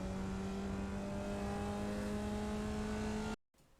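A Formula Vee engine in the iRacing sim at full throttle on the Oran Park Grand Prix circuit holds a loud steady drone for over three seconds before abruptly cutting out.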